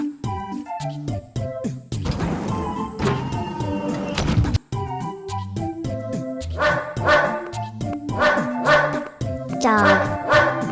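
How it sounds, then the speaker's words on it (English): A dog barks repeatedly in short, loud, spaced bursts, close to the microphone, alongside tinkling jingles, in a kids' farm animal sounds piece. "Dog."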